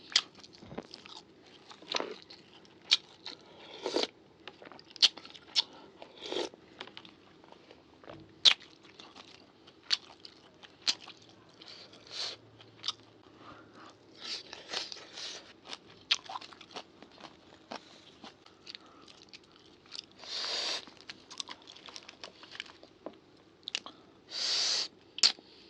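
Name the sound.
eating rice with Lao sour chicken soup, chewing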